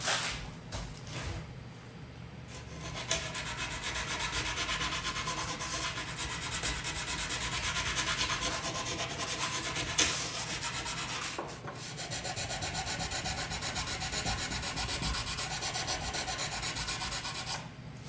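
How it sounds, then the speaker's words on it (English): Wooden pinball playfield holes sanded by hand, producing a continuous close, rough rubbing scrape that runs steadily with brief pauses and strokes, with no talking. "Sand the holes clean. Go ahead and do that now."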